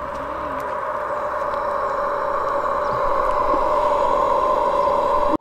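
A Tesla's pedestrian warning system in drive gives a steady, sustained electronic hum with layered tonal bands over a faint broadband wash, continuous for several seconds without speech.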